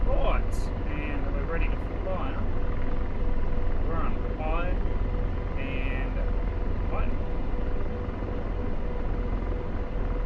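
An AH-64D Apache helicopter in flight in the DCS combat simulator, a steady low rotor and engine drone running throughout while a voice talks over it intermittently.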